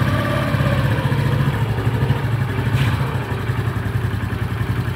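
A Honda Pop 110i motorcycle engine runs loud and close, its steady mid-pitched putter rising gently as the throttle is opened bit by bit, with no talking over it.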